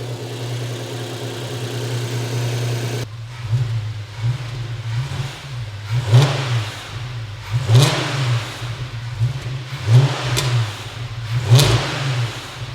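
Volkswagen Passat R36 engine, misfiring and smoky, held at idle and then blipped in a series of sharp revs, with a rough, uneven tone and a steady low drone between the rises.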